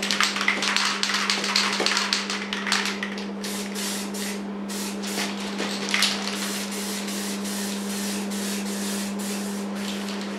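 Aerosol spray paint hisses steadily onto car bodywork during a respray, a loud close-up stream broken into repeated short bursts with brief gaps between passes and a constant underlying hum.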